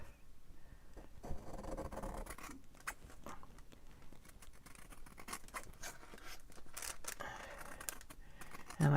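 Scissors cut through paper for a small handmade pocket folio, with a run of close, crisp snipping and rustling strokes at a moderate pace, no voices.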